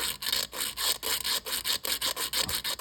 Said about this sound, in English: I'm going to take the 150 sandpaper, and I'm going to take each side of the packing tool. I'm just going to go back and forth